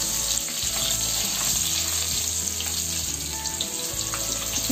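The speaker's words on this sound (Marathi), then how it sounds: "लसूण चांगली तेलामध्ये भाजली पाहिजे" Garlic frying in oil for a spicy mackerel curry, a continuous close hiss and crackle of sizzling under a low steady background hum, with no talking.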